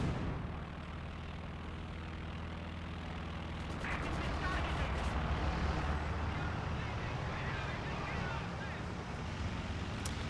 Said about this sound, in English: Looks like incendiary artillery going to come in once again.